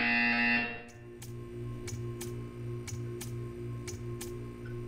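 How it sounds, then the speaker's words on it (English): Buzzer in the video game Portal 2: a string of short, evenly spaced electronic beeps, moderately loud, over a steady low drone after a brief louder tone fades out. "You will hear a buzzer."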